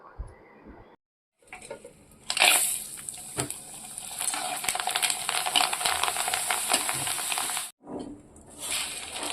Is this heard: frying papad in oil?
yes